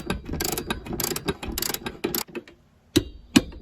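A torque wrench tightens 14 mm bolts on a seat in a third-generation Toyota 4Runner, with a quick burst of rapid ratcheting clicks followed by a pause and two sharp, louder clicks as the wrench reaches spec.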